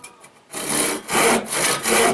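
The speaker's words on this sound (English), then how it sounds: "Teach you how to use a handsaw." Handsaw cutting through wood in steady back-and-forth strokes, loud and close, with a few light taps during the slow first half-second.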